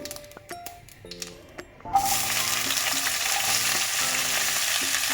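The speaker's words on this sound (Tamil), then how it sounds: "கடுகு போட்டுக்கலாம் சூடான எண்ணெயில் கொஞ்சமாக வெந்தயம் இப்போது நம்ம இடித்து வச்ச சின்ன வெங்காயம்" Mustard seeds, a little fenugreek and crushed shallots hit hot oil for sambar, starting with a few light clinks and taps before a sudden loud sizzle that keeps going as steady close frying, with background musical tones.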